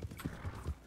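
Horse hooves clip-clop in the Red Dead Redemption 2 video game, a brief, faint patter of a few soft hoofbeats.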